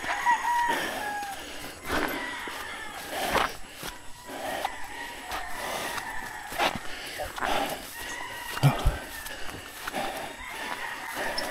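Chickens cluck and a rooster crows intermittently against a quiet outdoor backdrop, with occasional soft knocks and distant voices.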